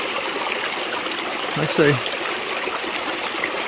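Creek water flows steadily at a crossing on the Ozark Highlands Trail, a constant broadband rush filling the whole stretch while someone speaks briefly over it.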